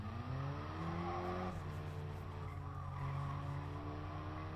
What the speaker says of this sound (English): You can hear the tyres moaning.